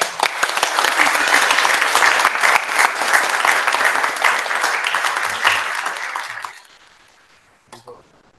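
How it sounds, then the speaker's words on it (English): A church congregation applauds new members at an Advent Sunday worship service, loud dense clapping that holds for about six seconds and then fades out, leaving quiet room sound. "Let's give our new members a round of applause."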